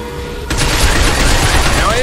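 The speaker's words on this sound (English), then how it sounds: "Stop them by shooting their legs." Sustained automatic gunfire from the video game Binary Domain, a dense rattling burst that starts abruptly after a brief quiet and continues loud and unbroken to the end.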